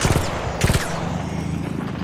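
Heavy gunfire from a big enemy in a video game: two loud rapid bursts of shots close up, followed by a sustained rumbling, crackling tail.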